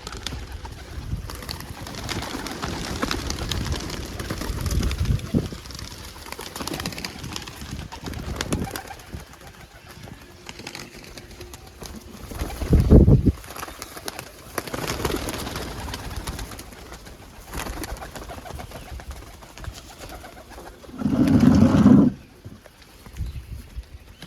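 Pigeons coo repeatedly, close and low-pitched, with louder bursts of cooing around the midpoint and near the end over steady background rustle.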